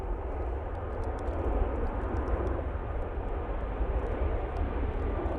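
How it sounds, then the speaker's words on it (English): An Aer Lingus airliner takes off from Manchester Airport on a windy day, a broad, steady roar of jet engines with deep rumble, sustained and fairly loud, with no talking. "See how this Aer Lingus does on rotation."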